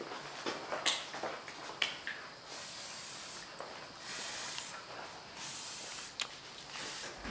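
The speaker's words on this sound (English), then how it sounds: "we have to go around and spray some WD-40 on all the bolts" Aerosol WD-40 sprayed onto the bolts of an old 1991 Honda Civic during a strut change, heard as several short hissing bursts of varied length with brief pauses between them, close to the microphone.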